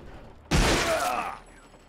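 A single sharp, loud pistol blast in Fallen Aces bursts out abruptly, then its booming tail decays over most of a second before quiet returns.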